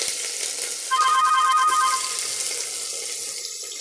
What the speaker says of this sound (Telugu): కొద్దిగా వేడెక్కాక ఇందులో ముందుగా కట్ చేసి పెట్టుకున్న ఆనియన్స్ కూడా వేసేసుకుంటున్నాను